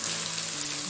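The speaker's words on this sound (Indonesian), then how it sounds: "Tumis sebentar sampai tomat agak layu." Tomatoes sautéing in a hot pan give a short burst of steady, close sizzling, even and unbroken throughout, with no voices.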